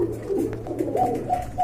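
A male blue Raj Gola pigeon coos nearby in soft, low, rolling calls repeated several times over a faint steady hum.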